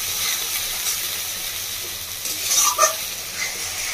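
Ginger-garlic masala paste sizzles steadily in a hot pan for Bengali red-lentil fritters, a close, constant frying hiss with a few louder sputters and stirring scrapes near the end.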